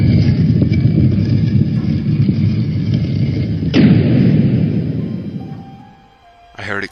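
A single loud, sharp bang like a door slamming shut in a bathroom cuts through a low rumbling background and fades out. A short high tone follows near the end.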